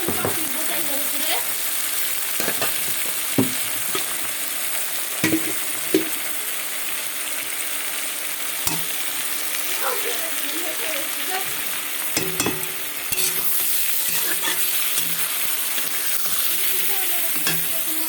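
Onions, not yet browned, fry in a pan with a steady close sizzle, broken by scattered scrapes and taps as a utensil stirs them, with no talking.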